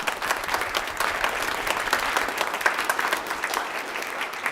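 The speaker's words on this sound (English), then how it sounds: "So let's give him a round of applause." An audience claps steadily at a wind ensemble Christmas concert, a dense, even wash of applause at moderate volume with no voices over it.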